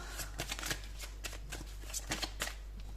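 Tarot cards shuffled by hand: a quick run of soft riffling and slapping snaps, close and fairly quiet, repeating unevenly over a few seconds.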